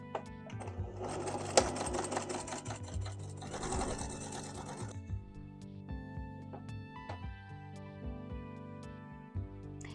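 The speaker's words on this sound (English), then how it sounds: "Now we're going to top stitch this circle at an 1/8 inch seam allowance also" A sewing machine top stitches a fabric circle at an eighth-inch seam allowance, its fast rhythmic clatter close and clear for about five seconds before easing into slower, lighter stitching and soft mechanical ticks.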